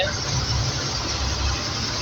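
An Eicher truck rolls along a highway on a long-haul run, giving a steady, dense road and engine rumble that holds evenly throughout with no breaks.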